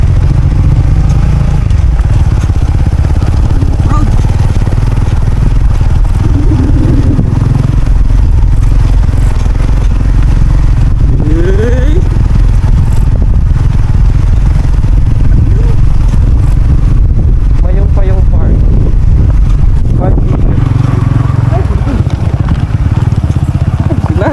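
A motorcycle engine revs and sputters unevenly on an off-road climb in Masbate, beneath loud wind and rumble, with people talking over it and some clattering.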